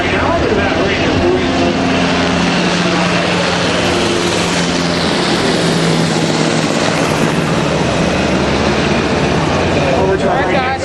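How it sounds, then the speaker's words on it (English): A helicopter approaching a harbor cruise boat on San Diego Bay, its rotor and engine drone loud and continuous, mixed with wind and boat noise. "helicopter coming straight towards us right now"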